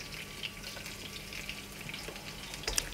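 Garlic frying in a pan for ground-beef kaldereta gives a soft, steady sizzle with faint crackles, quiet and close, with a few sharper pops near the end and no voices.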